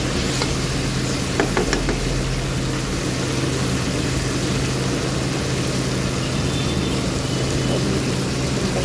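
Spice paste sizzling in a pan while being sautéed for a Bengali-style veg paneer paturi, a loud continuous frying hiss with a few faint stirring clicks.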